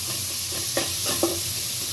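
Chili and onion fry in oil in a pan for a country chicken curry, a steady close sizzle broken by a couple of quick scraping stirs of a spatula.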